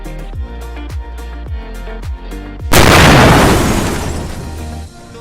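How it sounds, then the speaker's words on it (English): A series of low booming thuds builds to one loud, sudden car explosion, set off by a lighter, that roars and slowly fades over a couple of seconds. "he flicks his lighter, triggering a massive explosion that engulfs the car and the lion in flames"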